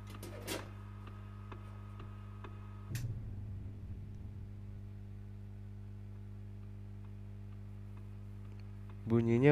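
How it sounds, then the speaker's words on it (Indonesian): A clock ticks faintly and steadily in a horror short film, soft regular clicks under a low electrical hum, with a couple of sharper bursts and a brief voice near the end. "Kayak bunyi detak jam ya."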